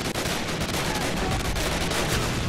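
Heavy battlefield gunfire from Call of Duty, with an 88 mm cannon among the fighting: a dense, continuous barrage of booming shots and rattling fire, loud and unbroken for the whole stretch.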